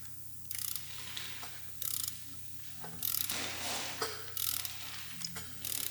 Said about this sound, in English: rotate the crank manually over here, and we're going to do that twice to ensure that the timing is correct